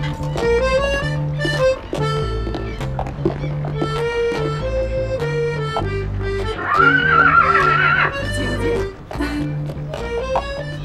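A horse whinnies loudly once in the middle, standing out over a busy, continuous music score, with no voices heard.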